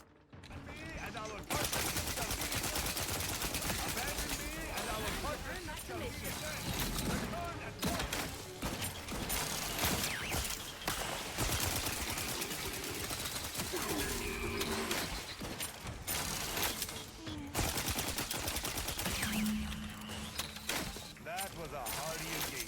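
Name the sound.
gunfire from a gun in the video game Outer Worlds 2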